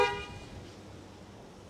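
Panic alarm horn on a 2023 Toyota Sienna blares at the very start, a loud tonal honk that cuts off within a fraction of a second, leaving only quiet room ambience afterward.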